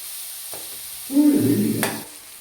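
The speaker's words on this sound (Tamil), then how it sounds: "நல்லா ஃப்ரை பண்ணிடலாம்." Ingredients fry in a pan for pasta, with a quiet background hiss and a short burst of louder stirring and sizzling in the middle before it settles back down.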